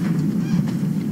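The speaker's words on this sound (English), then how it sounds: "How many chickens we got in there?" Chickens squawk and cluck loudly and continuously at close range, sounding agitated, with no talking.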